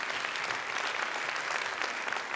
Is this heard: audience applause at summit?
yes